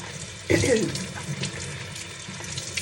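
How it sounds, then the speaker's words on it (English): Tap water running into a kitchen sink while hands are washed, starting with a splashy burst and continuing as a steady close rush, with faint voices in the background. "I'm gonna wash my hands."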